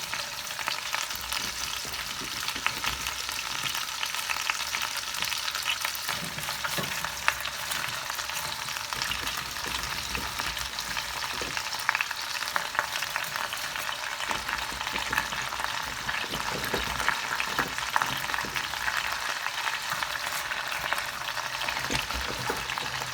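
Butternut squash, turnip and cabbage fry with rendered chicken for Moroccan couscous, a loud, steady sizzle and crackle that runs unbroken throughout.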